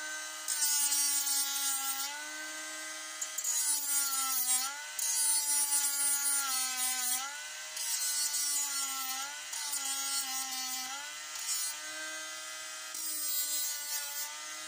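Small rotary tool dressing off protruding metal tongues on a model locomotive chassis, a steady whining grind with a strong tone that dips and rises in repeated passes, close and continuous with no talk.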